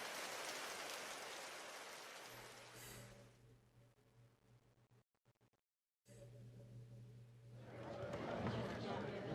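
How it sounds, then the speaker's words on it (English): Rain falls in a Trails through Daybreak video game scene, a dense hiss that thins midway, drops out briefly, then returns, with a low music tone underneath. "Why'd it have to rain?"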